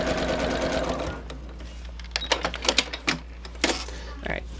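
A sewing machine stitches a fabric seam, near and clear, its rapid mechanical chatter in short bursts, preceded by someone talking.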